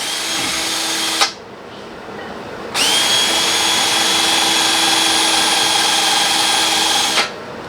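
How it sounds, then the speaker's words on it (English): Power drill boring holes for a front-mount intercooler install on an MK7 GTI, a steady whining drill run of several seconds after a brief start, close and loud. "or drill the holes."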